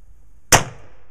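A single sharp pistol shot from a Ruger MKIII or Sig Sauer at a shooting range, one close, loud crack with a brief decaying tail, after quiet.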